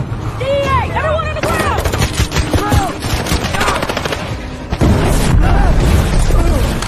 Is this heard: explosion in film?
yes